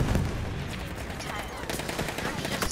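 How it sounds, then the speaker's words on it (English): Gunfire from the video game Battlefield 1, with rapid, dense shots and bursts crackling continuously at fairly low level under a mix of other battle noise. "I'm getting shot at."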